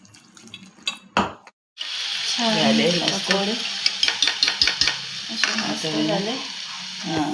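Kadhi pakora batter with turmeric, ajwain and a pinch of soda being mixed by hand in a bowl, a soft wet stirring and slapping that repeats steadily, with brief knocks and clatter early and someone talking over it.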